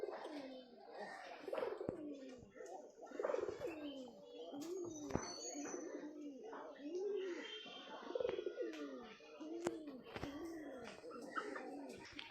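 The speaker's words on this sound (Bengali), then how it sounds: "আর চালে আছে সব পায়রা" Pigeons coo repeatedly from a roof, their soft rolling calls overlapping in a steady rhythm with a few sharp chirps, heard close and clear.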